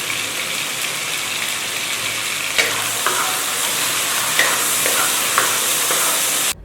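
Sliced pork belly is stir-fried in a wok with garlic and chili oil. A loud, dense, steady sizzle runs throughout, with a few clanks of the spatula, up close and without speech, until it cuts off abruptly.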